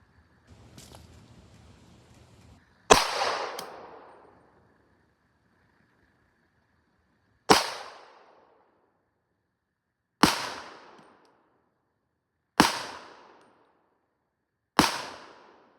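Five sharp pistol shots from a Glock 31 Gen 3 chambered in .357 SIG, with stock sights and trigger, fired at a range target. Each loud crack decays quickly into an echo, spaced a few seconds apart, with faint noise before the first.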